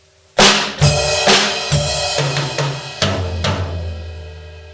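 A heavy metal drum groove pounds out with loud crash cymbals ringing on several accented hits, each crash washing out before the next.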